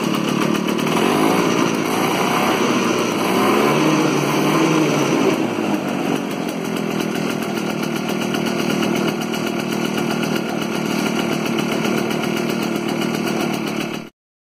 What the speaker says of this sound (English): That's the motor running on the 20-something-year-old gas that was still in the tank.